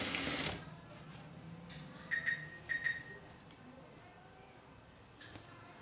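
A sewing machine stitching the side seam of a blouse starts with a short, loud burst of stitching, followed by quieter clicks and light handling taps.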